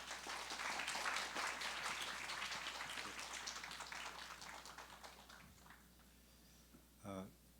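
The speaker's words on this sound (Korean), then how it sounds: "우리 큰 박수로 또 모시도록" A church congregation gives hearty applause to welcome a missionary; the clapping starts dense and full, then thins and fades, ending in a short burst of other sound.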